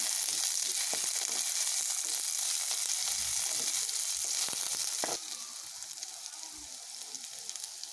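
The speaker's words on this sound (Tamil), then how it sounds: "ஒரு பெரிய வெங்காயம் நீட்ட வாக்கில் அரிஞ்சு வச்சுருக்கேன், ஆட் பண்ணிக்கேன்" Sliced onion, cut lengthwise, frying in hot oil for a banana flower kuzhambu, a dense steady sizzle throughout, briefly louder and crackling before settling into a softer, even hiss for the last few seconds; no voices.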